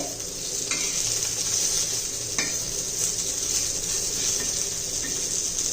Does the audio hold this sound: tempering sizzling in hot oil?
yes